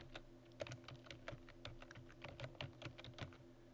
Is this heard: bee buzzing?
no